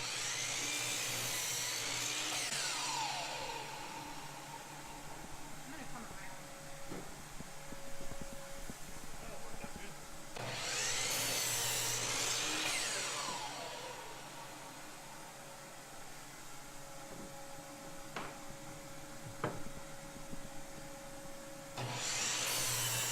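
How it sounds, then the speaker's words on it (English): A table saw rips 2x6 boards down into 2x2s in long, loud whining passes, several cuts separated by the steadier hum of the idling blade, with scattered knocks of wood being handled between passes. "I will rip them all down at the table saw."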